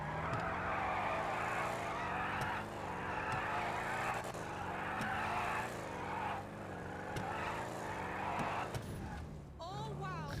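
A sports car in the GTA 5 video game revs hard and skids, its engine droning steadily with rising and falling pitch and tyre squeal over it, ending in a brief burst of sharper noise; a voice talks along underneath.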